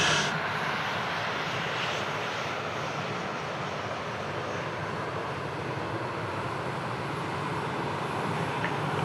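An airliner landing on runway 34 left at Sydney Airport roars in a broad, steady engine rumble that holds constant throughout, loud and unbroken with no voices.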